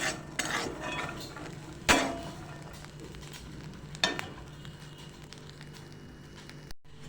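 Peanuts dry-roasting in a kadhai as they are stirred, with occasional sharp scrapes and clinks of the spoon against the pan over a low continuous rustle and hiss, no voices.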